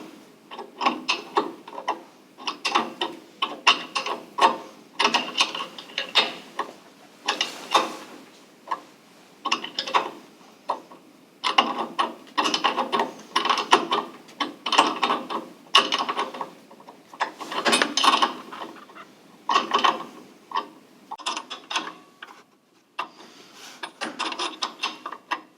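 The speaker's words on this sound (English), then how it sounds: "I'll start the tightening with the wrench." A wrench tightens fittings while a Weil-McLain SlimFit boiler is assembled, giving repeated bursts of clicking, ratcheting and rubbing metal in uneven clusters with short pauses, close by and without talk.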